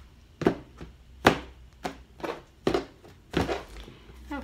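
Tarot cards cut into three piles on a table, heard as a series of about seven short, fairly close thumps and slaps at irregular intervals with no talking.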